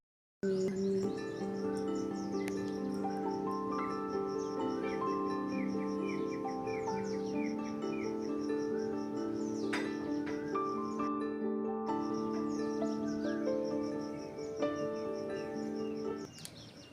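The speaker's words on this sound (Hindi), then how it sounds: "प्यारी प्यारी कोयल की आवाज़ आ रही है।" Asian koel calling in the early morning outdoors, repeated bird calls standing out over a steady layer of other birdsong and insect chirping, moderately near and continuous with no talking.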